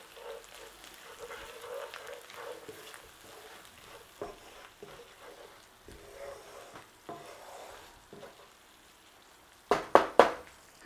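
Nihari spice mix with chili and turmeric gets stirred in a hot pot of lamb stew, giving soft sizzling and scraping strokes with a few louder spoon clatters near the end.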